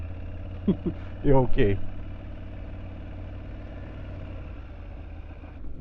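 An Aprilia Tuareg 660 motorcycle idles off-road with a steady low engine hum throughout, while someone speaks briefly over it.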